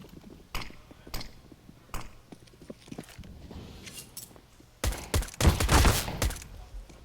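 Gunfire in a Counter-Strike match on the Mirage map: sparse single shots and clicks early on, then a dense, loud burst of rapid shots near the end, no voices.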